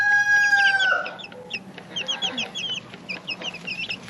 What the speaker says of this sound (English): These are the baby chicks.